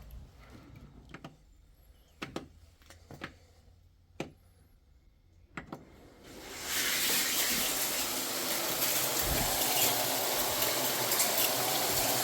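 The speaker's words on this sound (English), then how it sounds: "see if we can't get a little bit more water pressure out from the spray bar there" Pumped water bursts out of a gold sluice spray bar after a few scattered knocks, then keeps up a loud, steady gushing rush to the end.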